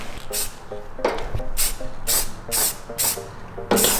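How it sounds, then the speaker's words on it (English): Short bursts of aerosol spray paint hiss out one after another, close and loud, with a faint rattle and clicks between them, during work on a 2017 Subaru WRX. "Let's do like a quick test spray."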